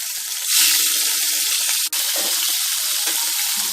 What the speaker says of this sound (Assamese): তেল গৰম হৈছে, মাছ কেইপিচ দি দিম।